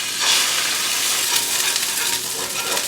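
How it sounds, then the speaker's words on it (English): An egg sizzles loudly and steadily in a hot cast iron pan, with a dense, continuous crackling hiss close up and no talking. "Sizzle."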